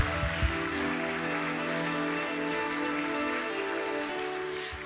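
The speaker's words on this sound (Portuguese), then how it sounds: "Pode aplaudir Jesus," Congregation applauding during a church sermon: a dense, continuous wash of clapping at even loudness throughout, heard from within the room over a low steady hum.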